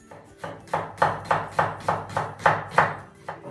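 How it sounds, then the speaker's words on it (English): A knife julienning an onion on a cutting board: about nine crisp, evenly spaced chops, close and loud, with brief quiet gaps between strokes. "The next thing we're gonna do is julienne our onion."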